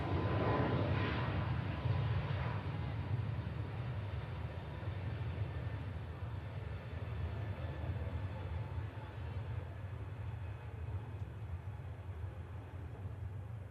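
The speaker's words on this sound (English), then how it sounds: "Off goes the Turkish Airlines to Istanbul." A Turkish Airlines airliner takes off from Manchester Airport, heard as a faint, distant, steady engine rumble and roar that lasts throughout, with faint talk at times.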